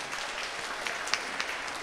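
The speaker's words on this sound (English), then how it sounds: "Let us give them a big round of applause." A church congregation at an Easter Sunday Mass applauds the young people and prayer team, a brief, soft patter of clapping heard from a distance in a reverberant space.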